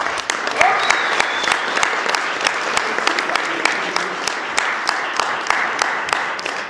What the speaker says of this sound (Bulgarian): Аплодисменти за Мирослав Стоянов.